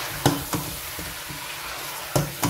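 Chicken frying in a pan with tomatoes and green chillies being stirred in, a steady close sizzle broken by a few knocks of the spoon against the pot.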